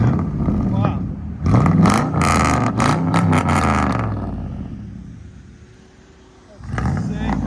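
Nearly twenty-year-old Dodge Dakota pickup with straight-pipe stainless exhaust revs hard several times up close, then drops back to a rumbling idle before another rev at the end, with people talking over it.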